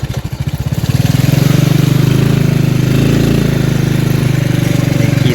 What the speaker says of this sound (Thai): ขี่ซาเล้งมาเหมือนนี่